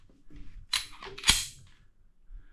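A Canik SFx pistol is dry-fired: a sharp trigger-break click near the middle, followed by softer mechanical clicks of the trigger reset, close and fairly quiet.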